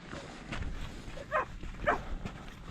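Somewhere on a windy hill summit in the Roaches of the Peak District, a dog gives two short, muffled barks, moderately distant beneath steady wind noise.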